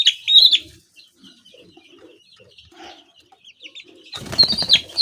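Young chicks in a brooder being handled for weighing, with bird chirps and cheeps, a few wing flaps, and a loud burst of peeping and fluttering at the end; no talking.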